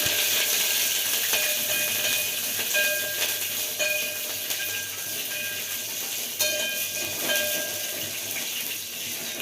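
Green and dry chilies with curry leaves frying in hot tempering oil for Bombay rava upma, a steady loud hiss and sizzle that runs through the whole stretch with small crackling bursts.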